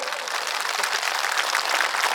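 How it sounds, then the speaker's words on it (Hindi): A crowd at a Hindu Maha Sammelan in Thanagazi, Alwar, claps in a dense, continuous burst of applause that stays steady and fairly loud throughout. "तालियां तो बजाओ।"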